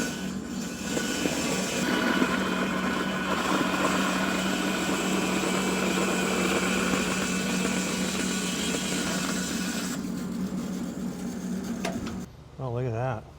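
A water jet cutter slices open a bunny boot with a continuous loud, broadband hiss and roar that runs unbroken for several seconds before cutting off, with a voice present under the noise.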